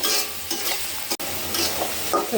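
About 250 grams of sliced onions with green chilies fry in hot oil, sizzling loudly and close up while a utensil scrapes and stirs through them in repeated strokes, with one sharp clack midway.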